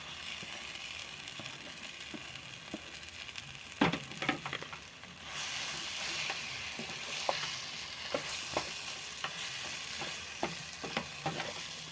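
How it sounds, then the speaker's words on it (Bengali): Fish and mashed boiled potato are stirred into a frying masala for fish cutlets, producing a soft steady sizzle with repeated spatula scrapes and taps against the pan, close and fairly quiet, no talking. "এবার মাছ আর যে আলুটা আমি সেদ্ধ করে মাখিয়ে রেখেছিলাম সেটা আমি এর সঙ্গে এবার আমি অ্যাড করে দেবো"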